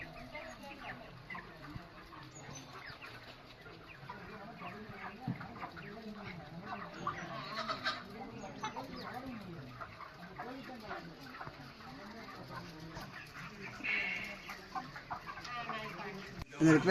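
Chickens on a poultry farm cluck and murmur in a scattered, fairly faint chorus that runs throughout, with a few louder calls. A person talks intermittently over the birds.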